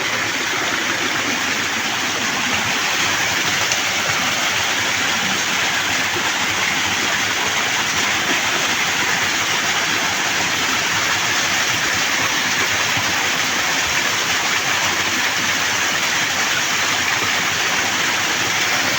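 Rain-fed stream of water flowing in a creek bed, a steady, dense rushing wash that holds evenly throughout, fairly close and with no voices over it.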